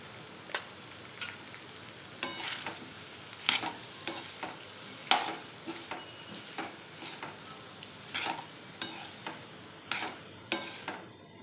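Diced potatoes tossed with spices in a frying pan for a dry potato bhaji, sizzling softly under a steady run of scraping and clicking stirs, each stroke a sharp close tap at an irregular pace.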